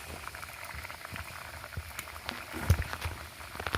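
Tilapia fish curry with cauliflower and potato simmers in a pot, a soft continuous bubbling with scattered pops and small splashes, quiet and close, with no voices.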